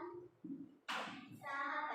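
Students in a classroom break into a brief burst of hand clapping after a voice speaks, the applause swelling and continuing loudly to the end.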